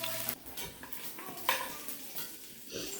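Bacon cooking in a pot, giving a faint sizzle with scraping stir and light clinks of a utensil against the pot, quiet and close with no talking.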